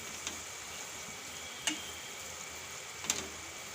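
Ridge gourd and potato curry with crushed peanuts simmering in oil, a faint, steady frying hiss with a few soft ticks and clinks, quiet and continuous throughout.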